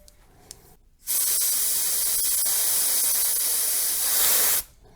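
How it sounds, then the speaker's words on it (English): A spray bottle sprays soapy water over a Mercruiser 496 engine to check for leaks, a single sustained hiss of about three and a half seconds, close and loud, after a few faint clicks. "I'm going to go around with a spray bottle and look for any bubbles"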